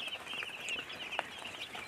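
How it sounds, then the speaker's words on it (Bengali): Broiler chicks pecking at feed and water scattered on the floor, with faint soft clucks and peeps over a steady background hum and one brief tap. "বর্তমানে পানি আর এই খাবারটা ছিটাই দিছি, ওরা ওইটাই খুঁটে খুঁটে খাচ্ছে আর কি"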